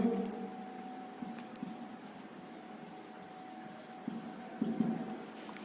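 A pen writes numbers by hand during a Class 10 maths lesson, faint scratchy strokes in short bursts over a quiet room hum.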